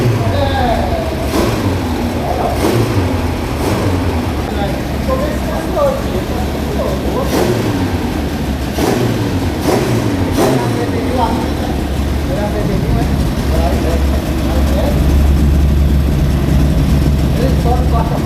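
An engine on a Riva 600 with original motor runs with a heavy, steady low rumble and brief rising revs, close and loud throughout, while people talk nearby.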